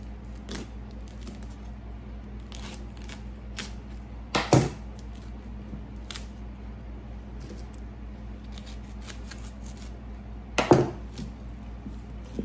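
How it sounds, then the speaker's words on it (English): A knife cuts florets off a raw cauliflower head with two crisp snapping cuts several seconds apart, over a quiet low hum with faint handling noises. "So we're just gonna go through and cut the pieces off."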